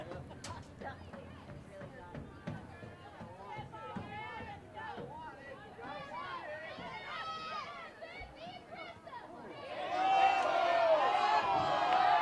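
Spectators at a girls' high school soccer semi-state match between Fishers and Carroll, a steady crowd murmur with scattered shouts that swells into louder cheering and yelling near the end as fans appeal for a handball.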